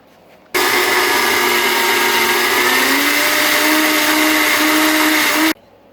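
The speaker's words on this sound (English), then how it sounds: "let's get to blending" A blender whirs loud and steady for about five seconds, churning a thick mixture thinned with tomato juice, its motor pitch rising slightly as the contents loosen, then cuts off abruptly.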